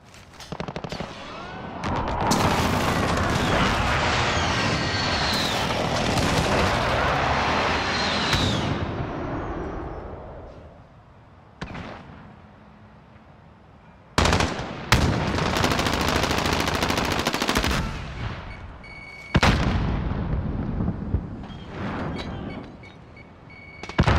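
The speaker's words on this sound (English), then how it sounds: "Enemy precision airstrike, take cover." A precision airstrike in Call of Duty: Modern Warfare brings a long, loud roar of heavy gunfire and explosions, followed by several sharp, separate blasts after brief lulls.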